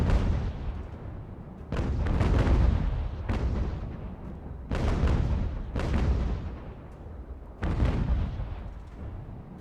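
Heavy cannon fire in a naval battle from the British campaign of the video game UGAR: five loud, booming shots roughly one and a half seconds apart, each with a rumbling decaying tail, with no talking.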